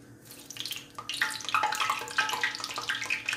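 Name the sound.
water sizzling in hot frying grease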